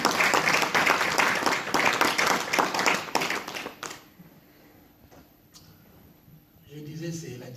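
A church congregation claps and cheers for several seconds, loud, dense applause that fades out midway, leaving quiet room tone before a voice begins speaking.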